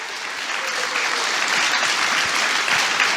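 An audience at a live comedy show in Vancouver bursts into sustained applause, dense clapping holding steady at full strength for a few seconds with no talking over it.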